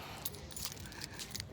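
A bunch of keys jangling as they are put away, a close metallic clinking and rattling in quick irregular bursts over faint background noise, with no talking.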